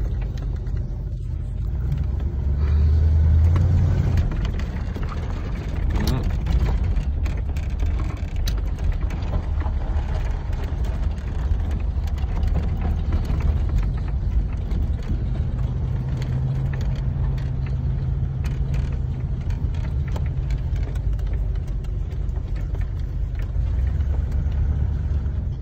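A G-body car's engine rumbles steadily as it drives through mud on a rough trail, a low continuous drone with slight swells, heard alone without talk.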